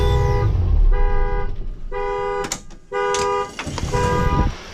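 A bus horn beeps in a series of loud, flat honks, some short and some held, separated by brief gaps, with engine rumble underneath.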